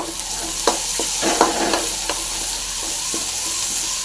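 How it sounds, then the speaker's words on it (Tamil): Onions fry in oil with mustard seeds and green chillies for masala dosa filling, a constant sizzle broken by a spoon scraping and clinking against the pan. "நல்லா ஃப்ரை பண்ணிக்கலாம் வெங்காயத்தை"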